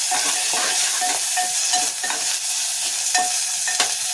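Curry leaves sizzle loudly in hot oil in a pan for a chutney tempering, a constant bright crackle and hiss with repeated scraping strokes as they are stirred.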